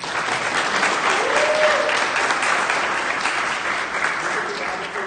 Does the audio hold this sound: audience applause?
yes